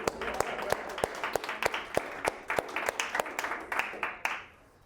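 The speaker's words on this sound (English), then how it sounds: "Let's give you guys a round of applause for that work." A class claps in a classroom after student presentations on organic chemistry functional groups, giving brisk, uneven hand claps that stop near the end, with some voices under them.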